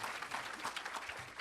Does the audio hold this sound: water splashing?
no